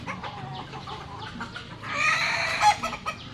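Two chickens cluck outdoors in short bursts close by, building to a louder squawking flurry near the end.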